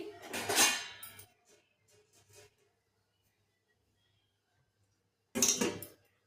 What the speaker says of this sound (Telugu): ఇట్లా బాగా కలుపుకున్నాక దీని మీద ఒక మూత పెట్టి